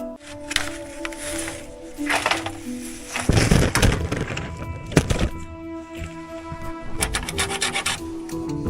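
A blade rasps and cuts repeatedly across the end of a piece of wood in a jungle survival setting, with steady rubbing strokes and a few sharper cracks and thunks, close and clear.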